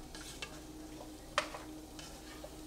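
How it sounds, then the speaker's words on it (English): Soft stirring in a pot of Caribbean pumpkin rice, faint scrapes and a gentle sizzle with one sharper clink of the utensil against the pot rim, quiet and close. "So I'm just stirring."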